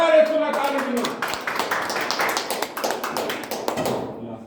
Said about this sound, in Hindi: जोरदार यसोलाई ताली दिनुहोस्